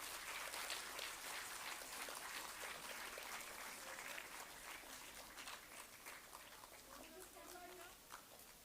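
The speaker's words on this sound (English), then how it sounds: "A big round of applause for grade 5 Maples." Audience clapping at a school badge ceremony for fifth graders, sustained crowd applause that gradually thins out, with voices talking faintly underneath toward the end.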